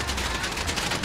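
Rapid video game gunfire forms a dense, continuous barrage of crackling shots, loud and unbroken for the whole moment.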